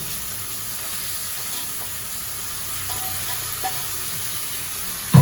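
Crushed spice paste sizzling in a frying pan while cooking a ridge gourd and onion fry, a steady even hiss with faint stirring clicks and a sharp knock at the end.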